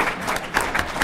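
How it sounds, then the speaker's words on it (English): A brief scatter of claps from a small audience at a college debate final greets judge Jason Russell of Gonzaga, a few distinct hand claps over roughly a second. "You can clap for Jason if you want."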